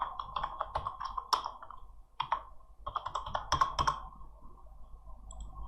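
Quick bursts of keystrokes on a computer keyboard, irregular clicky taps in short clusters with brief pauses, close and fairly quiet.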